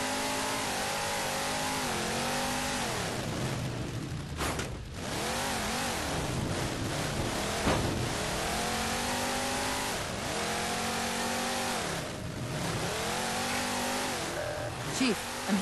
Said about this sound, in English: Don't think I'm digging the Warthog's new sound.